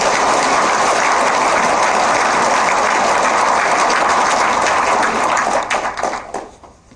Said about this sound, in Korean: 박수를 한번 보내주시기 바랍니다